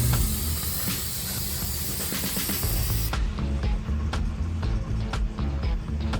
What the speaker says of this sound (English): Should I paint it or should I just spray it?